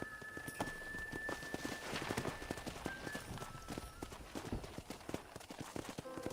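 Horse hooves clip-clopping at a brisk pace in the video game Red Dead Redemption (2010) on a ranch, fairly faint, with light ambient noise and a few soft tones in the background.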